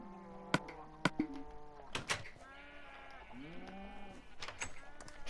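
Blocky sheep in Minecraft bleat several times, with repeated wavering calls overlapping one another alongside some other farm animal noises, close and fairly clear with no talking.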